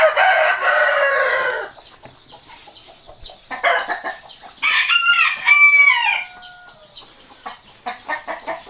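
Chickens cluck and chatter close by while a rooster crows loudly, with other crowing and squawks overlapping in a busy farmyard chorus.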